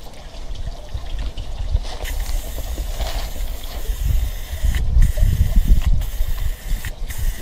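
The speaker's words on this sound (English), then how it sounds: "I'm gonna try and apply this like regular spray paint where you do multiple light coats" Aerosol paint sprays onto car seats outdoors in the wind, in a continuous hissing spray with gusty rumble underneath and a few brief pauses between bursts.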